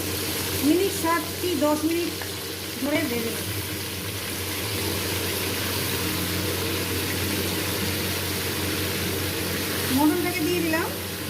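Mutton, marinated and drained, fries with cumin in a pan as a continuous broad sizzling hiss, with a person's voice heard briefly near the start and again near the end.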